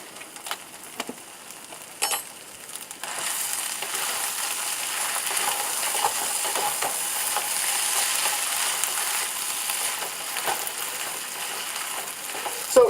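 Fried rice being stirred in a hot pan, a steady sizzling hiss with scraping and clattering of the utensil, loud and close, following a few sharp knocks at the start.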